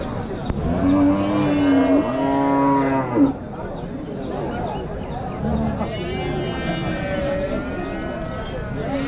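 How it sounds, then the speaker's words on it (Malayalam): A Jersey heifer at an Erode cattle market moos in two long, loud, nearby calls, then another lowing call follows as people talk over the steady background of the market. "കന്നി പശുവാണ്"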